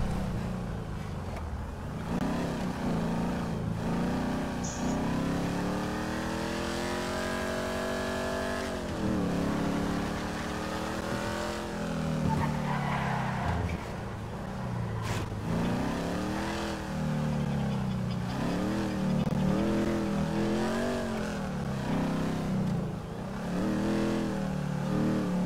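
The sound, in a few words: car being driven in a GTA roleplay video game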